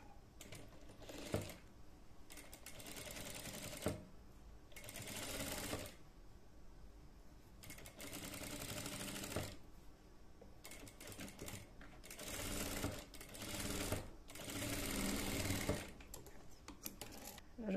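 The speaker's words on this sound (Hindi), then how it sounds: "फ्रिल में मशीन से मोटी सिलाई करके करूंगी" A sewing machine runs heavy stitching along a satin bonnet frill in bursts of a few seconds each, with short pauses between runs and soft talk audible at times.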